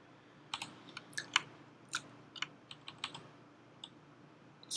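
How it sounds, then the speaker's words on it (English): Typing on a new computer keyboard: a dozen or so quiet, irregular key clicks in short bursts, close by and alone. "another consequence of having this new keyboard is that my typing is yeah, you know, it's typing."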